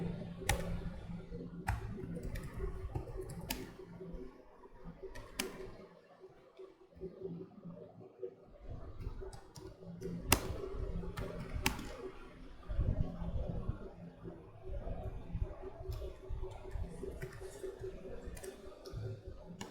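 Quiet, irregular clicking of keys on a computer keyboard as code is typed, mixed with a soft speaking voice and faint room noise throughout.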